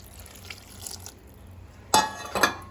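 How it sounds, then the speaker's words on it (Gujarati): Water is poured into a bottle gourd and chana dal curry in a Gujarati home kitchen, giving a short, close splashing pour after quiet background, with a second smaller splash just after. "થોડું પાણી નાખું છું અંદર"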